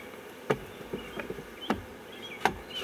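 Honeybees buzz around an opened Flow hive during an inspection, a steady close hum of many wings with a few sharper clicks and taps scattered through it.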